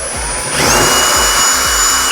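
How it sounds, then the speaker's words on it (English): Power drill cutting a hole in a ceiling for a 6-inch recessed LED light, a loud close steady whine of the motor spinning up and grinding through the material. "get yourself a drill, and check below to make sure you're not tossing dust all over everything"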